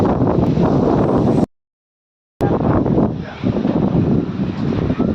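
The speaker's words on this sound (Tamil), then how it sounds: "இங்கே பாருங்கள், சென்னையிலே செம்ம காற்று." Strong gusty wind blows in Chennai ahead of rain, a loud roaring buffet across the microphone. It cuts out briefly to near silence, then returns in rushing, uneven surges.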